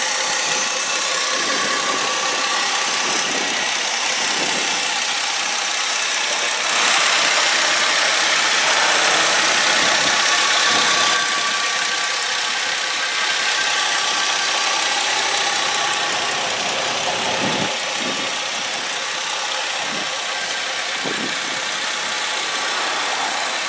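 The 2.7 liter V6 of a 2004 Chrysler Sebring Limited Convertible idles steadily, close and fairly loud, with a broad, even engine hum and a few soft ticks, and no one speaks.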